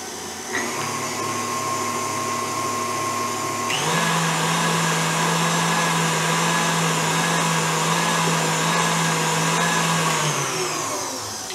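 An electric hand mixer beats vanilla-flavoured batter for a tropical pineapple and peach cake, a steady loud whirring drone that shifts up in speed partway through and runs continuously for about ten seconds with no talking.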